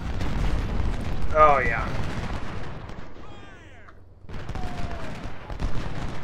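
Musket volleys and cannon fire from a Civil War battle in Ultimate General: Civil War rumble continuously through the whole stretch, dipping briefly in the middle before swelling again, with someone talking over the din.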